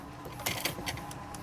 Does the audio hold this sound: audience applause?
no